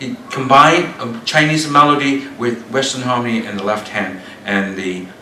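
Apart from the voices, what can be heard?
No distinct noise like a dog, phone or traffic.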